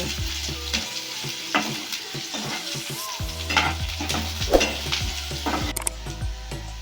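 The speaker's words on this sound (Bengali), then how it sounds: "রসুন আর কাঁচা লঙ্কাটাকেও পেঁয়াজের সাথে নাড়াচাড়া করে ভেজে নেব" Garlic and green chillies fry with onion in a pan, sizzling loudly and close while a spoon stirs and scrapes in repeated strokes, with a low hum in the background.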